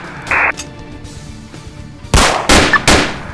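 Three loud, sharp gunshots crack in close succession in the video game Emergency Hamburg, following a brief tone and quieter background sounds, with no one talking.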